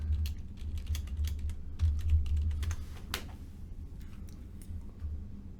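Fingers type on a computer keyboard up close, in quick irregular bursts of light key clicks with short pauses, fairly quiet and with no voices.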